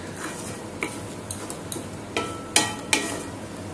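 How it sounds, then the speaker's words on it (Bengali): Stirring coconut laddoo mixture in a pan with a utensil, giving a series of sharp scraping and tapping clicks at irregular intervals, close and distinct over a quiet background. "তো এইভাবে নাড়তে থাকবো যাতে তলায় লেগে না যায়।"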